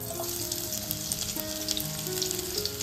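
Onion sizzles and crackles in hot oil, a steady close frying hiss with scattered pops and faint stirring.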